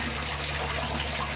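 Meltwater runs steadily into a clogged sewer drain, a constant broadband trickle and gush close by.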